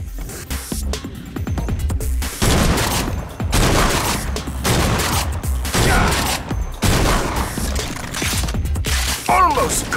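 Loud, dense bursts of gunfire and explosions from the video game Agents of Mayhem come in several long volleys separated by short gaps, with heavy booms and mechanical clatter.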